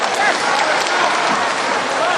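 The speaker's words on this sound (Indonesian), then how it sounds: "Tepuk tangan yang meriah untuk 3 kandidat." An audience at a public debate gives a dense, steady burst of applause for three candidates, close and loud, with no voices over the clapping.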